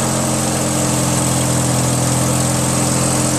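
A Briggs & Stratton opposed-twin engine on a Craftsman DYT4000 lawn tractor runs steadily, a close, loud, even rumble with a constant throb and no voices.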